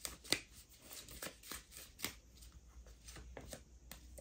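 Cards from a deck are handled and drawn, giving faint, scattered flicks and soft snaps at an uneven pace in a quiet room with no talking.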